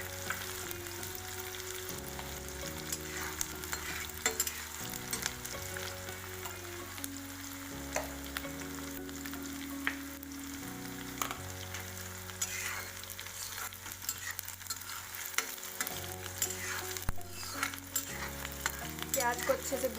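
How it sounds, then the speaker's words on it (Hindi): Onions sizzle in a pan while being stirred until browned for fried rice, a continuous close hiss broken by frequent scraping stirs, with a low tonal hum underneath throughout. "इसको अच्छे से भूनने, ब्राउन होने तक इसको अच्छे से चलाते रहें।"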